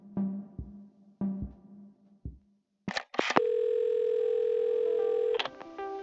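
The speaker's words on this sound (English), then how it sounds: "I reached for the phone and it all came flooding back" Steady, loud telephone dial tone from a phone in the video game Assemble with Care, starting after a few soft handling clicks and knocks, holding continuously for about two seconds before cutting off.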